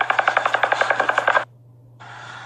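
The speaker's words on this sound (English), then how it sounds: "Some kind of mass shooting." A rapid burst of about fifteen loud, close gunshots from a heavy-caliber weapon during a mass shooting, fired in a steady automatic rhythm, then abrupt silence before a hissing noise begins.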